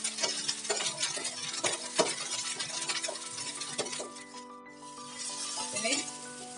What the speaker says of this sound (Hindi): तेल गर्म होते ही मटर के दानों को थोड़ा फ्राई कर लेना है।